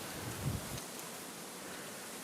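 Steady outdoor rain falls as a soft, even hiss, fairly close and continuous with no talking, alongside the unboxing and setup of a Temple Adventure Disc bicycle.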